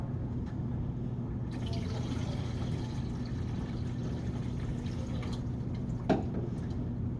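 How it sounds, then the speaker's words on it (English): Photographic fixer poured from a measuring cup into a film developing tank, a steady close trickle of liquid running for several seconds over a constant low hum, ending with a single small tap. "pour 20 ounces of fix into the tank"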